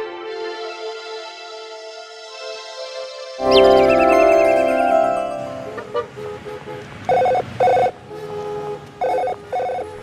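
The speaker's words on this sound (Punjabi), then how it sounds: "ਓਹੋ ਸੱਤੇ ਦਾ ਫੋਨ" A mobile phone rings nearby, first a sustained melodic ringtone tone, then a louder, busier tune that ends in a series of short repeated bursts.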